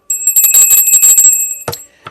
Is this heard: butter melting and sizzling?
no